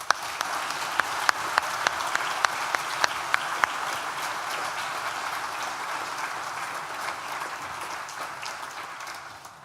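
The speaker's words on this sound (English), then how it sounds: "I invite you to join in a round of applause to celebrate our achievements." An audience at a university graduation ceremony applauds steadily at moderate volume. Several sharp individual claps stand out early on before the sound blends into an even, continuous wash.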